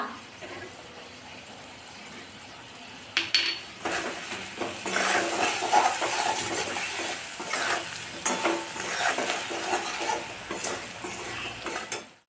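Spices with Kashmiri chili powder and cumin frying in a pan for a mung dal ridge gourd potato dish, with steady sizzling and a spoon stirring and scraping, growing busier after a few seconds.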